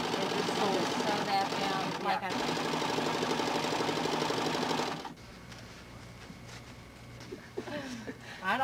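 Sewing machines run in a high school band room, a loud rapid mechanical chatter that stops after about five seconds, then quieter room sounds and faint voices follow.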